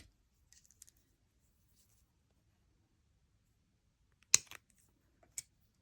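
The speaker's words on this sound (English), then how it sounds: "And then I'm going to cut the end off." Scissors snip the end off a pearl necklace strand, giving a couple of sharp, close cuts in near silence after faint earlier handling noises.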